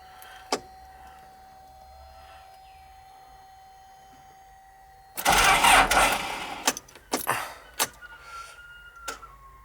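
A Trackless MT5TD tractor, mid-rebuild with freshly connected battery cables, cranks in one loud, rough burst of about a second. A few shorter, choppy cranking bursts follow after a quiet lead-in that holds only a faint hum and a couple of clicks.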